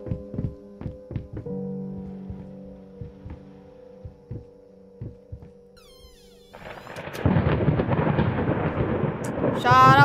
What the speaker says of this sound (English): Stop with the thunder, cannot, bro.